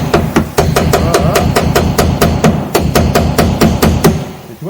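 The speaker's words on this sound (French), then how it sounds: "si je continue avec la petite spatule là. Et mon marteau, hein, ça fonctionne bien." A hammer raps repeatedly on a small scraper while dismantling a 1955 Citroën Traction 11B, striking about four sharp, loud, close metallic blows per second in a steady rhythm.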